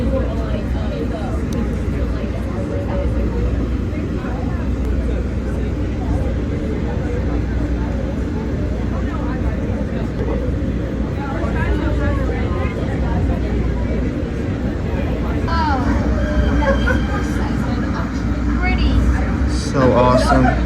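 A Boston subway train bound for Cleveland Circle rumbles along with a steady, loud low roar and rattling squeals, under faint background voices.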